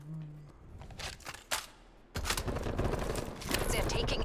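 M4 rifle gunfire in Call of Duty: Cold War, with sharp shots and bursts during a multiplayer league match. The firing starts sparse, then runs dense and continuous alongside other game sounds. A voice is heard in the background.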